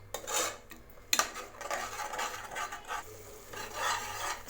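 A spoon scrapes and stirs ground tomato into a soya chunk curry in a pan, making close, rasping rubs and scrapes in uneven strokes with occasional clinks against the metal, with no voices.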